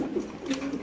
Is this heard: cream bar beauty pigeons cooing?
yes